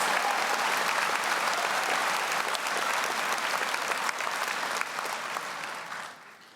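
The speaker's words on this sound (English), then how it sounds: "If we could just give them another round of applause" Sustained round of applause from the crowd at a Clovis Community College commencement, dense and even clapping that fills most of the stretch before tapering away near the end.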